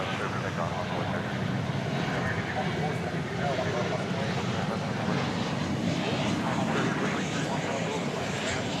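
A jet airliner roaring on takeoff from DFW Airport at night, a broad, steady rumble that stays loud and close throughout, with radio or commentary voices faintly mixed in.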